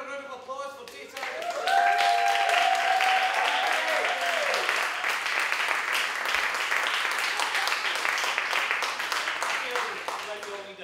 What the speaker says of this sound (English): Ladies and gentlemen, a round of applause for data.